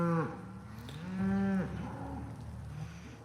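Cattle moo loudly and close by in a muddy, wet field after a snowstorm, two long drawn-out bellows and a shorter low call, with no speech over them.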